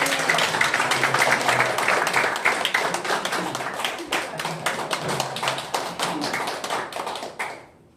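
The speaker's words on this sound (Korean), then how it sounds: "우리 격려하는 마음으로 박수 한번 보내주세요" A church congregation bursts into sustained applause after a pastor's introduction, dense clapping from many hands that holds steady for several seconds and then stops abruptly, with a little talk blended in.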